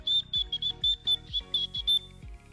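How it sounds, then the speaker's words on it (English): A small plastic whistle built into the sternum strap of a 2026 Lunchbox hydration pack, blown in a rapid series of about ten short, shrill, high-pitched toots, close and loud. "Did you know that there's a whistle built into your pack?"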